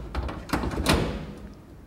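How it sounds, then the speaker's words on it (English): Oven door on a Capital Culinarian range being refitted: a few soft knocks and clunks, with one louder metallic thud near the middle, close by and free of talk. "Open the door fully, put your clips forward, and then close your door"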